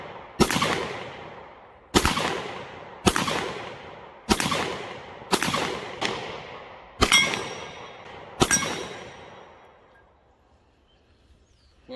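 Seven sharp shots from a Hi-Point handgun ring out at an outdoor shooting range, spaced about a second apart, each loud crack trailing off into a short echo before the next, with a longer decay after the last.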